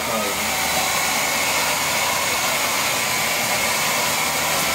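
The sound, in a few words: blow dryer blowing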